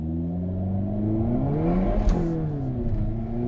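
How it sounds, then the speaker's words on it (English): A Hyundai Kona N accelerates on a wet racetrack with its wheels spinning: the engine climbs in pitch, a loud crack-like burst sounds midway, then it pulls on, heard close from inside the car. "Wheel spin because it's wet."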